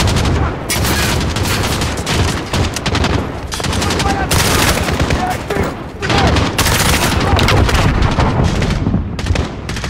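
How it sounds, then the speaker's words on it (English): Call of Duty: Modern Warfare combat with sustained suppressive gunfire: dense, continuous bursts of automatic weapons and heavy booms, loud and unbroken for the whole stretch, with shouting voices mixed in. "Get suppressive fire on that enemy!"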